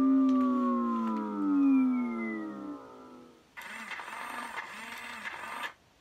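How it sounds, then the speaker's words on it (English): A BB8 toy robot's small motor whining with a falling, gliding tone, followed by a buzzy pulsing motor rattle, close and alone with no voices. "But the motor just sounds sad."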